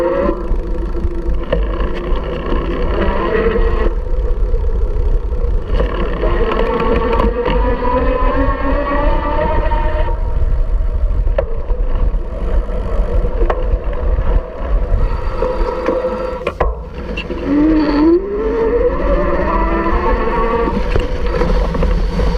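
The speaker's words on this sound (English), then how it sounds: "I'm gonna give us a different angle, this time of the motor, so you can see how quickly it responds." Freway Buffalo electric motor whining as it is ridden through snow, rising and falling tones with each burst of throttle over constant loud wind rush near the microphone.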